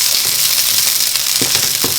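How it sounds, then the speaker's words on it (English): Vidalia onions sizzle in a hot pan for a kale frittata, giving a dense, steady hiss with a few soft stirring scrapes. "I'm going to add in my onions. Hear that sizzle?"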